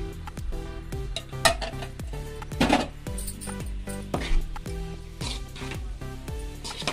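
Tamarind pulp being mixed into cooked rice in a pot for tamarind rice, heard as repeated thick, squishy stirring strokes and dull knocks of a spoon against the pot in an uneven rhythm, close and clear, with no talking.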